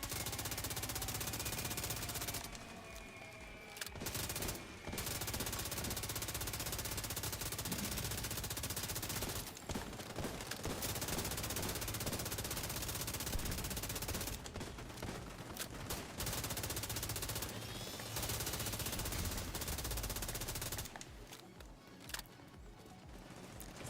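Sustained automatic gunfire in The Division 2 rattles in long continuous bursts with only brief pauses between them, dense and loud throughout.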